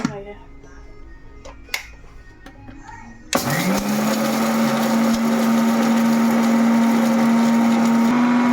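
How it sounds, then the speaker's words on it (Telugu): An electric mixer grinder whirs as it grinds roasted spices, sesame seeds and cloves into a masala paste. A few light knocks come first, then the motor starts abruptly and runs loud and steady to the end. "మిక్సీ పెట్టేసుకున్నాం."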